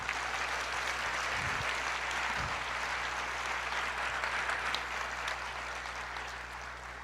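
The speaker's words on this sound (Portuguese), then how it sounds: "Você pode aplaudir o Senhor?" A church congregation applauds in sustained, even clapping that fills the hall, heard at moderate distance and fading slightly toward the end, with no speech over it.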